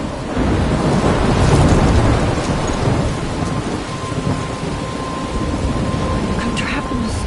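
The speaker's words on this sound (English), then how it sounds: "I'm trapped in the storm?" A loud thunderstorm roars with heavy, continuous rain and a long rumbling thunder swell in the first half that slowly fades, leaving a dense wash of rain.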